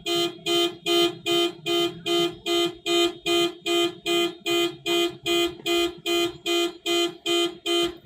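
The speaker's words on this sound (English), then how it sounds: "Here we go, car alarm." A car alarm going off outside sounds a loud, steady series of rapid electronic buzzing pulses, about two per second, persisting unbroken with no talking over it.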